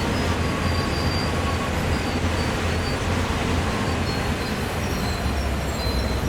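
A long train rolling on its own inertia through a rail yard in the video game Train Sim World 2, a steady low rumble of wheels on track with faint high squeals, continuous and even throughout.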